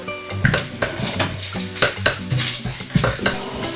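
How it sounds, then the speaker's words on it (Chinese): Sliced mushrooms stir-fried with garlic slices in melted lard: loud, busy sizzling with rapid rhythmic spatula scrapes and pan clatter throughout, no voices. "再放入切好的蘑菇翻炒"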